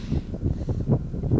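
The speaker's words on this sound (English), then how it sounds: "It's kind of a rough day out here with this wind gusting at about 20 knots." Gusty wind rushes across an outdoor golf course, a steady low rumble that swells and eases in soft pulses with no other sounds.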